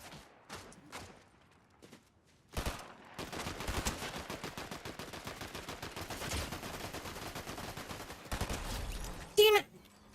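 Rapid automatic gunfire from the video game Fortnite crackles in dense, sustained bursts for several seconds, preceded by a few scattered isolated shots and ending with a sharper loud crack.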